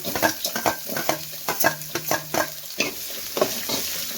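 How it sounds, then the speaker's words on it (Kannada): Finely chopped onions and garlic frying in a pan, with steady close sizzling and a busy run of spatula scrapes and stirring clatter throughout, no talking. "ಬೆಳ್ಳುಳ್ಳಿ ಸ್ವಲ್ಪ ಫ್ರೈ ಆಗಲಿ ಎರಡು ಈರುಳ್ಳಿನ ಸಣ್ಣದಾಗಿ ಕಟ್ ಮಾಡಿ ಸೇರಿಸ್ತಾ ಇದ್ದೀನಿ"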